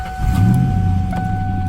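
A 1998 Ford Mustang with an aftermarket exhaust catches and starts, quickly settling into a low, steady rumble close by.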